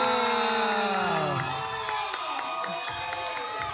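A crowd at a natural bodybuilding championship in Florida cheers and whoops loudly for a competitor, a burst of shouting and clapping that fades slightly, with someone talking over it.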